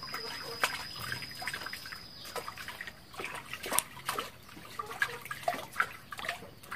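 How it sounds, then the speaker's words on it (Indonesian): Water splashes and drips faintly and irregularly as a pigeon is bathed in the morning and soaked through, with close, soft sloshing throughout. "Saya mau mandikan sampai basah ini supaya cepat kering."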